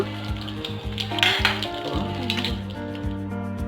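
Beaten eggs frying in a pan for mimi masala, a steady close sizzle broken by several clinks and scrapes of a utensil against the pan.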